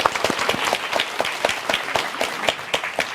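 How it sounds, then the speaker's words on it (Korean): Steady audience applause from a lecture crowd, dense overlapping claps at a lively even pace, close and fairly loud throughout with no voices over it. "박수 한번 주세요."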